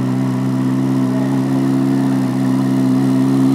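A Chevrolet Corvette C8 Z06 engine holds a steady, loud, smooth drone with an even, layered tone and no talk over it.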